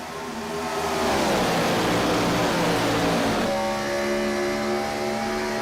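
On-board race car from the IROC Challenge Series at Kentucky, engine note sweeping down as the driver sits in the clutch, then a steady loud drone at lower pitch; continuous and close, no voices.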